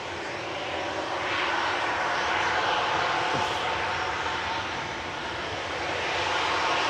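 Broad, steady jet roar of a Turkish Airlines airliner taking off from Manchester Airport, loud and continuous throughout with no voices.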